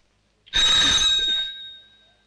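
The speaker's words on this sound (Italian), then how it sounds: "Questo campanello non suona! Ma veramente, suona." A single bright metallic ring of an electric bell, loud and close, sustaining about a second before fading with a ringing overtone.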